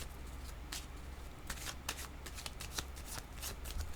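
Tarot cards are shuffled by hand in a steady run of soft, papery riffles and flicks, close and fairly quiet, with no voices.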